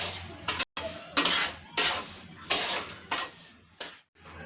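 Spoon scraping and stirring sugar into rava (semolina) with cardamom in a pan for rava laddu, a run of close, scratchy strokes with short pauses between them.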